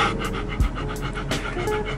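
Dog panting close by in quick, rhythmic breaths, loud and steady through the short moment.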